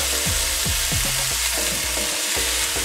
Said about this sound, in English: Place your bacon slices into the hot oil,